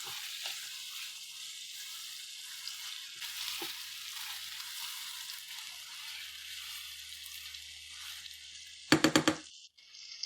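Chicken frying with garlic ginger paste in a karahi, a steady hissing sizzle under faint stirring, ending in a quick run of sharp clanks of utensil on metal.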